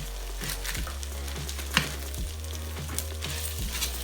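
Shepherd's pie filling sizzles steadily in a pan at close range, a constant hiss with a low hum underneath and a few faint clinks.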